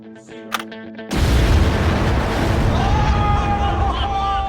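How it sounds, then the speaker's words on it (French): A few faint clicks and a thin tone give way to a sudden loud boom from a test explosion meant to create diamonds, followed by a long roaring rumble that keeps going with a rising whine. "ils testent maintenant le mythe de la création de diamants par explosion"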